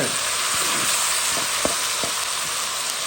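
Tomatoes fry with thyme in a pan, giving off a loud, continuous sizzle close by, with a few faint stirring knocks.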